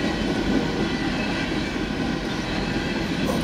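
A Norfolk Southern 15M freight train led by a BNSF locomotive rolls past close by, its railcars making a loud, steady rumble with faint wheel clatter and no voices.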